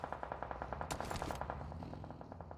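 Rapid automatic gunfire in the PUBG Mobile battle royale game, a fast, evenly spaced burst of shots running steadily throughout, with a brief louder blast in the middle.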